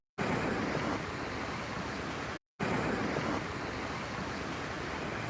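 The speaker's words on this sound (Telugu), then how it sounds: "నెల్లూరు జిల్లా తీర ప్రాంతాల సముద్రం" Sea waves on the Nellore district coast roar as a dense, steady wash of surf with wind, loud and constant, briefly cut by a short gap of silence.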